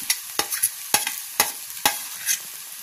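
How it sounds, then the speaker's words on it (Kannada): Onions and green chilies frying in a pan for a Karnataka avare bele huggi rice dish: a spatula scrapes and stirs in several sharp strokes over a soft sizzle, close and without talk. "ಈಗ ಈರುಳ್ಳಿ ಸ್ವಲ್ಪ ಫ್ರೈ ಆದ್ಮೇಲೆ ಹಸಿಮೆಣಸಿನ್ಕಾಯಿ ಹಾಕೋತಾ ಇದ್ದೀನಿ"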